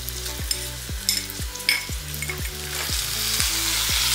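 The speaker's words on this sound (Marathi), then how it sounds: "तेल आपलं तापलं की याच्यामध्ये आपण जे कट केलेले वांगी होती ते वांगी आपण याच्यामध्ये ऍड करणार आहोत" Cut eggplant pieces fry in hot oil in a kadhai, a steady close sizzle with repeated soft scraping stirs at a regular rhythm, building slightly louder toward the end.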